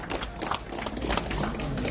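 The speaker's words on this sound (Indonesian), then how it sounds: "Tepuk tangan yang meriah dong Bapak Ibu" An audience applauds at a P2TEL South Tangerang branch election meeting, a dense, steady crackle of many clapping hands that holds for the full two seconds at moderate volume.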